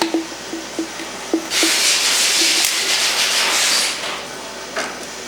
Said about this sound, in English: This is your water pump bleed valve here, and this is what you're going to want to loosen.